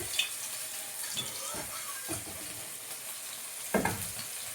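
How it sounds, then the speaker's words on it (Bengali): Koi fish sizzle and crackle in hot oil on a stovetop. The frying hiss holds steady for several seconds, and sharp spatters and pops break through it, loudest near the end, with no voices. "কই মাছগুলো ভেজে নেবো"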